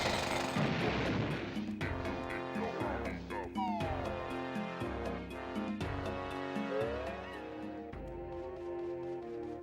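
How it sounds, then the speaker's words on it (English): The Bill Drill move in the Banjo-Tooie video game hammers rapidly and continuously, a loud rattling drumming that runs throughout over layered game music and effects. "So now we can bill drill our way through this."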